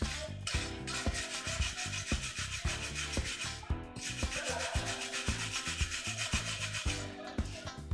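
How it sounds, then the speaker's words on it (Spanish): A wire brush scrubbed hard across a fresh weld in metalwork, making rapid, rhythmic rasping strokes that continue for several seconds with brief pauses, close and fairly loud. "Siempre después de cada soldadura, cepillamos con nuestro cepillo de alambre."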